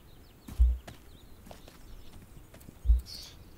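Horse hooves clip-clop in the video game This Land Is My Land, with two distinct heavy hoof thuds about two seconds apart and a few lighter steps between them against a quiet outdoor background.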